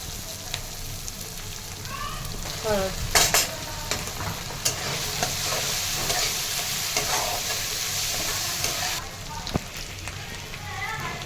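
Cabbage fries steadily with asafoetida and ginger-garlic paste in a hot pan, a continuous close sizzle broken by a spoon scraping and stirring, with a few louder clinks along the way.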